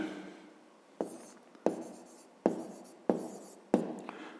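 A pen writes numbers on paper in a quiet room, with five distinct scratchy strokes spaced about half a second to a second apart, close and soft.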